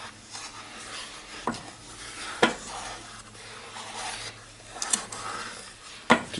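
A wooden spoon stirs chocolate pudding ingredients in a pot, making a steady scraping and swishing with a few sharper knocks of the spoon against the side, close and alone.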